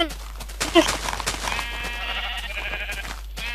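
Sheep bleating in Minecraft, a short bleat standing out against busy game sounds and a steady hum, with talking mixed in.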